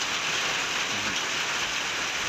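Steady, loud rain pours down over an open-air outdoor stage set up for a mor lam concert, a dense continuous hiss with no voices.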